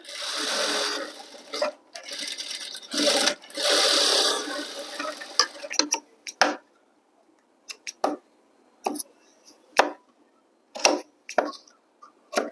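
A sewing machine stitches a school uniform in several loud, steady whirring bursts, then gives way to scattered clicks and short taps as the fabric is shifted.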